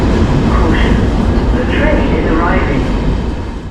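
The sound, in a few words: Deutsche Bahn train arriving at station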